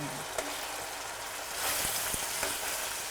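Pieces of fish sizzle steadily in hot oil in a pan, with a few soft scraping taps as they are carefully turned, the frying hiss continuous and close throughout.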